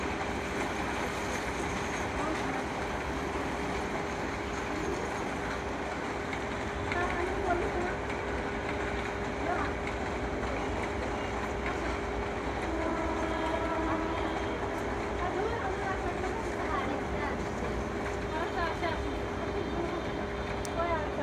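A train running below an elevated urban roadway, a long continuous rumble of rolling wagons with faint rhythmic clatter, heard from a distance alongside city noise.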